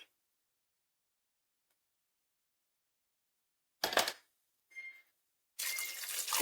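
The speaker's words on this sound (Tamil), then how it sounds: "தண்ணி சேர்த்துப்போம்" Water is poured into a pressure cooker holding dal with turmeric, heard as two short splashing bursts and then a longer, louder pour after a stretch of silence.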